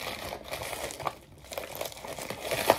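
Plastic package wrapping is torn open with teeth, producing close, crinkly crumpling and ripping in irregular bursts, with a sharper tear near the end.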